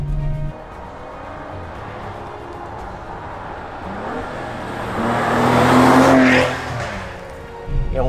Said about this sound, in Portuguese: explosões entre passagens de caixa, estabilidade direcional é fabulosa.